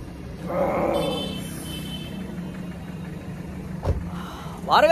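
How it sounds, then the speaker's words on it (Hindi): A car engine idles at low steady rumble while the vehicle is being parked, with some nearby voices and movement sounds over the continuous hum. "अभी गाड़ी पार्किंग कर रहे हैं"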